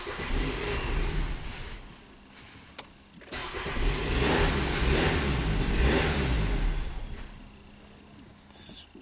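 A poorly running Nissan Sentra engine revs up when floored, rising in loud bursts, dipping, then surging again before falling away, heard close with no talk.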